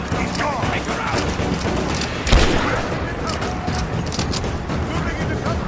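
Rapid covering gunfire and a sharp boom in a Rise of the Tomb Raider firefight, with a continuous busy battle mix and a voice calling out over the shots.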